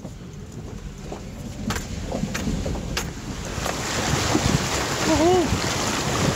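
Vehicle fording a river swollen by overnight rains on a Baja backcountry route, with steady rushing water and splashing broadband noise under wind buffeting, building slightly louder toward the end as a voice whoops briefly.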